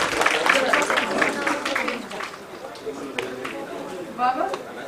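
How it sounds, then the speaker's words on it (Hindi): An audience claps at a book launch for a poetry collection, the applause fairly soft and scattered beneath voices talking over it throughout. "डॉक्टर अना देहलवी जी के लिए भी ज़ोरदार तालियां बजाई जाएं"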